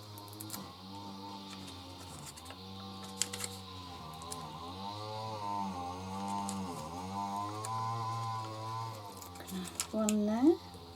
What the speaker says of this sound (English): Apologies for the noise, grass is being cut.